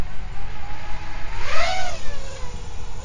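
A budget Realacc Real5 FPV quadcopter runs on a 4S battery during its first flight. A buzzing motor whine swells and bends in pitch midway over steady rough background noise.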